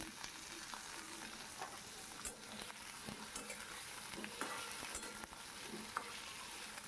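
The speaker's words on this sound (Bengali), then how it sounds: "একটা কড়াইতে তেল গরম করে আলু জিরে ফোড়ন দিয়ে তার মধ্যে ডুমো ডুমো করে আলু কেটে নিয়েছি সেগুলোকে ছেড়ে দিলাম" Diced potatoes frying in hot oil with cumin in a kadai, a steady soft sizzle close by with occasional scraping stirs, no voices.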